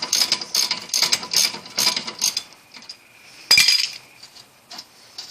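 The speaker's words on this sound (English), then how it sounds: "I'm going to use a breaker bar to put some heat on this, because it's one of those awkward places" Ratchet or breaker bar clicking in short rhythmic bursts while turning the CV axle nut on a Nissan Altima, close and fairly loud, followed by a sharp metallic clink and a few softer taps.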